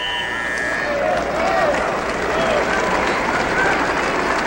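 A crowd in a gym at a 1981 high school wrestling final, with a steady, moderately loud roar of cheering and murmuring that continues throughout.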